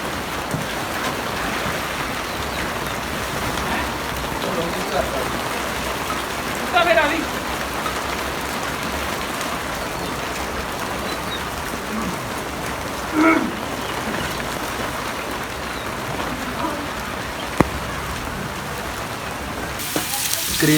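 Steady rain pours down outside a kitchen where stuffed karela is being cooked, a dense continuous hiss with occasional louder drips, while a person talks softly underneath.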